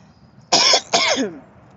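Two loud, harsh coughs in quick succession, close up, then quiet.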